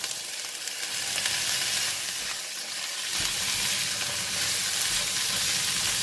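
Chopped tomato tipped into chickpeas frying in a pan; a steady sizzle swells and grows fuller partway through, with light stirring under a constant hiss.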